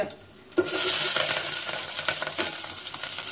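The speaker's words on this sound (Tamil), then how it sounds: "பெரிய வெங்காயம், ஒரே ஒரு மிளகாய், இது நல்லா கொஞ்சம் வதங்கவும்." Large onion and a single chilli sautéing in a pan, a loud bright sizzle bursting in after a quiet start and holding steady close up, with faint scraping of a spoon through the frying.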